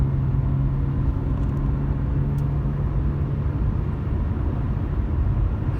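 A 2003 Subaru Forester cruising around 40 mph with a loud resonant whine from the rear, a steady tone droning over continuous road and engine rumble throughout.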